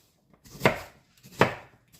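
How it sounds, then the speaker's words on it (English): A knife roughly chopping carrots on a cutting board, two distinct crunching strokes spaced about three-quarters of a second apart, close and fairly quiet with no talking. "chopping my carrots."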